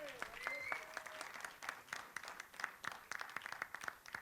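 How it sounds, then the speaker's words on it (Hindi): Audience applause greets Govinda at a trailer launch for the film Aa Gaya Hero, a dense run of clapping from a crowd that carries on steadily, with some voices mixed in. "गोविंदा जी के लिए जोरदार तालियां हो जाएं।"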